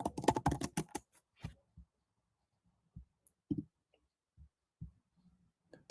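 Keystrokes on a computer keyboard during a live trading session: a quick burst of rapid, dense typing at first, then sparse isolated taps separated by quiet gaps, close and clear with no talking.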